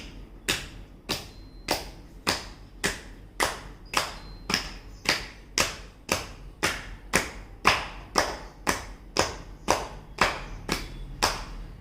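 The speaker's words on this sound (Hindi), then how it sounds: "अब हमें इस तरह दोनों हाथों के पंजों को दोनों पैरों के पंजों पर लगाना है और बजाना है ताली" Hands slapped against the feet in a yoga clapping exercise give about two dozen sharp, evenly spaced claps at a brisk, steady rhythm, close and clear with no talking.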